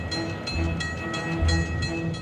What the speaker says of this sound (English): At Chestnut Hill Station in the gathering dusk of the winter evening, the train pulled in.